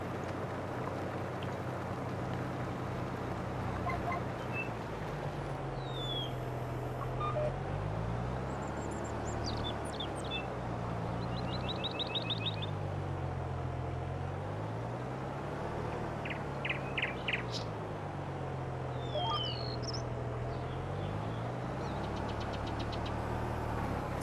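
Tractor engine in the video game Farming Simulator 22, a steady low diesel drone that swells and dips in pitch as revs rise and fall, running continuously with a few faint higher chirps over it.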